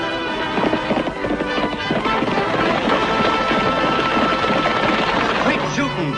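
Horse hooves clip-clop at a gallop in a classic western TV series, a steady drumming rhythm under continuous music and narration.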